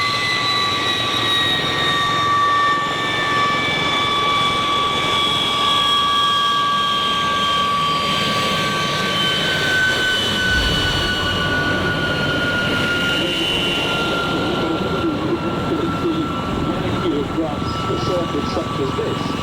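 A MiG-15bis and de Havilland Vampire jet drone steadily overhead at the Duxford air show with a sustained tonal whine, while a voice talks faintly underneath.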